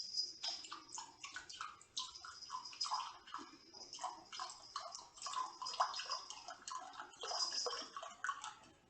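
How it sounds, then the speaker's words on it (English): Vinegar pours into a measuring cup with a quiet, continuous trickling and splashing, broken up by small drips and gurgles. The liquid sounds close and soft, and no one speaks. "I'm just going to pour a half a cup of vinegar"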